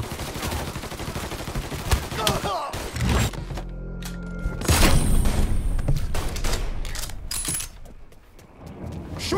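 Bursts of gunfire in the video game Mafia III, loud rapid shots and volleys with a few heavy impacts, with voices shouting between the firing.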